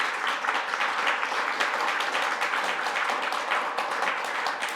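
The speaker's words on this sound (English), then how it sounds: "Big round of applause, I think, for the panel." Steady applause from an audience for a panel fills the room, dense and continuous clapping from many hands throughout.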